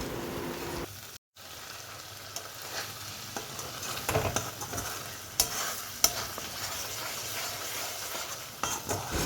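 Masala sautés in oil for a mutton curry, a continuous moderate sizzle with steady stirring scrapes and a few sharp clinks of a spoon on the pot, briefly cut out near the start.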